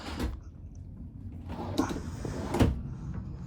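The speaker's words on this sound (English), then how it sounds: "Soft close drawers too, by the way." A soft-close drawer in a 2025 Montana High Country 377FL RV slides shut softly, with muffled thuds and a gentle glide, heard against low background rumble.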